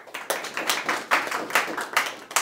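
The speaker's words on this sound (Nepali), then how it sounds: "यहाँहरू सबैलाई जोरदार ताली प्लिज।" A small audience claps at an indoor product gathering, a short run of uneven, fairly close hand claps with a loose rhythm and no cheering.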